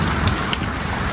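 Heavy rain pours down in Florida, a dense, steady hiss of drops drumming on surfaces close by, loud and unbroken throughout with no voices.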